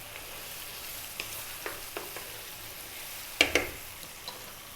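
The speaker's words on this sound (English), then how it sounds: "We're now going to add the 4 regular sized tomatoes" Fresh tomatoes go into a hot pan for a sea bass dish and sizzle faintly and steadily, with a few soft clicks of stirring and a louder double scrape near the end.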